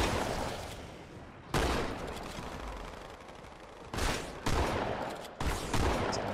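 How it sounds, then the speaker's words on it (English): Rapid pistol and SMG bursts in a Halo 2 firefight crackle steadily at moderate distance, with several sharper, louder volleys punching through the continuous rattle. "it's the pistol and the SMG"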